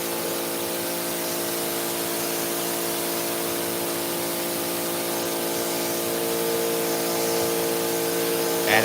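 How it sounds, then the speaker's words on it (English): Power washer spraying the fringes of a rug, a loud, continuous close-up hiss of pressurized water that holds steady throughout without pauses. "we are power washing the fringes on this rug here"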